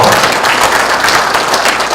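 Dense, steady applause fills the whole stretch, a large audience clapping together at a political rally, loud and even with no pauses and no voices standing out.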